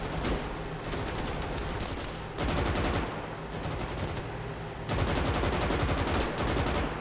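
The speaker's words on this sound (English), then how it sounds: "those machine guns are so inaccurate" Machine gun fire in the video game Gates of Hell, sustained rapid bursts that overlap continuously, loud and close, with distinct rattling volleys swelling and fading across the stretch.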